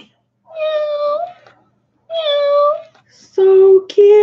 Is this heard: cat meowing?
yes